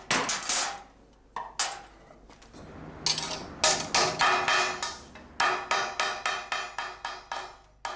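Wooden mallet hammering a copper strip flat: sharp, loud metallic blows in irregular clusters, then a steady run of evenly spaced strikes, with ringing decay between hits.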